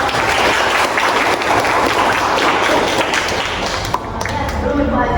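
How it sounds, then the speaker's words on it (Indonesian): A high school class applauds after a group presentation, with loud, dense clapping across the room that continues steadily and fades slightly near the end, with a faint voice underneath. "silakan beri tepuk tangan"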